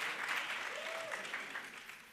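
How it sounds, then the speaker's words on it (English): Audience applause at a community event about DeKalb animal services, a brief faint patter of clapping that tapers off toward the end. "let's give one more round of applause"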